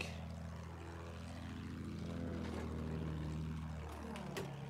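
A propeller airplane drones nearby in a Battlefield 1 match, its engine tone rising and falling as it passes, steady and fairly loud without talk.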